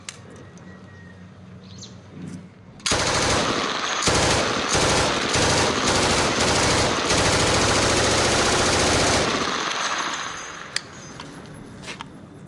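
Sustained bursts of automatic gunfire ring out during street fighting in the battle for Mosul, loud and dense for several seconds, with rapid overlapping shots that taper off into a few scattered reports.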